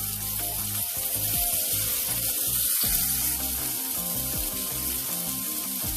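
Steak sears in a hot pan over raised heat, giving a steady, even sizzle with a bright, hissing crackle that holds at constant level throughout, with no talking.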